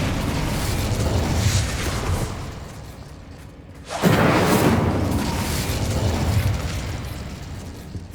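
An Incendio fire spell cast in Hogwarts Legacy: a loud, roaring whoosh of flame that fades, then erupts again in a second sustained fiery burst.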